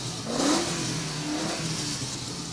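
A 4.2 litre MG Rover engine in a rally car at a ceremonial rally start ramp, given a quick throttle blip that swells into a rising rev and then settles to a loud, rough idle nearby.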